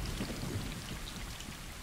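Rain falling in the video game Stray, a steady, soft hiss of downpour with faint low rumbling, even and continuous.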